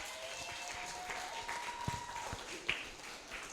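Audience applause at a creative technology and AI café event, a steady wash of clapping hands that holds at moderate level throughout, with a couple of sharper claps standing out.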